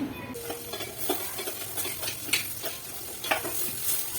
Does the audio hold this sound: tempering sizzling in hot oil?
yes